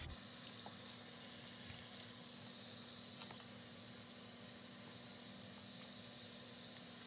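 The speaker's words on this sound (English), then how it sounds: "Make sure to wash out all the dish soap in the hair." Running tap water pours steadily over a doll's Kanekalon hair as soap is rinsed out, a continuous close hiss and splash with a faint low hum beneath and no talking.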